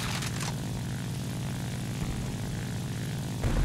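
A Fw 190 A-5 propeller fighter in War Thunder drones with a steady, loud engine roar, the pitch holding level before a brief surge near the end, with no talk over it.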